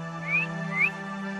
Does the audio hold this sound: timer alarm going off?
no